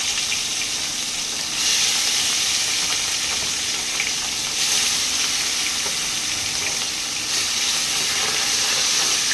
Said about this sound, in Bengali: আমি এরকম করে সব মাছগুলো ভেজে নেবো